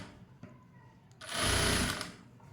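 Sewing machine stitching a blouse runs in one short, loud mechanical burst of rapid stitching lasting under a second, with quiet handling before and after.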